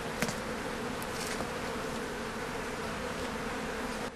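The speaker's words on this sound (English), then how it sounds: "So I just slowly move my fingers down and the bees will get out of the way." Honey bees swarm around beehive frames during a hive inspection, a dense, continuous buzzing hum that holds steady and close throughout, with a few faint clicks and knocks.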